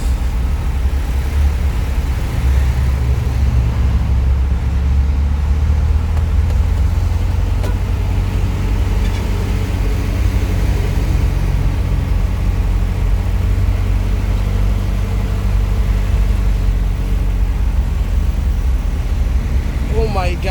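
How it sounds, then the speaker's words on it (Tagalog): Heavy, slow road traffic heard from inside a vehicle: a steady, loud low engine drone and idling hum that continues unbroken, with no distinct voices. "Grabe, napaka-traffic talaga guys."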